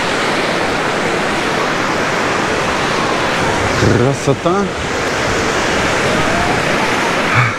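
Sea waves breaking on a crowded beach at Anapa make a steady, loud broadband roar of surf throughout, with a voice briefly speaking midway.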